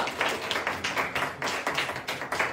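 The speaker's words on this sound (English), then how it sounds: "I think we need to give God a hand clap" Congregation at a Sunday evening church service clapping hands together, a rhythmic run of fairly even claps with a hint of voices mixed in.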